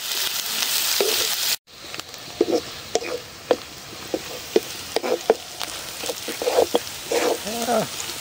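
Onions fry in a pan with a soft, continuous sizzle, broken by stirring scrapes and clicks, while people talk over it after a short pause near the start.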